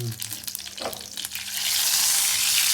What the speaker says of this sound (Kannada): ಜೀರಿಗೆ, ಸಾಸಿವೆ ಸಿಡಿದ್ಮೇಲೆ ಹಸಿಮೆಣಸಿನ್ಕಾಯಿ